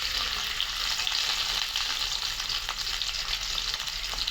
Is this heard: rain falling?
no